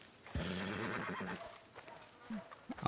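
A horse in the RedM video game gives a short, close neigh with hoof clip-clops, followed by a few quieter snorts and knocks against a soft ambient background.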